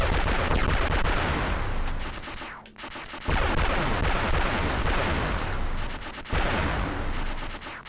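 Rapid, continuous video-game gunfire from an Amiga title, a dense, loud rattle of shots that pauses briefly twice before resuming, with no voices over it.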